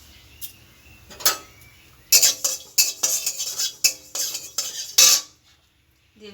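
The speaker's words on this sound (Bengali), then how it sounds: "কালো জিরে দিয়ে দিচ্ছি," Black cumin seeds tipped into a dry pan and stirred with a metal utensil, a few scattered clinks first, then a dense run of scraping and rattling strokes that stops abruptly.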